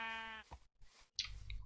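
A lone sheep bleats briefly in a video game, one short, clear, wavering call, then quiet clicks and soft rustling follow.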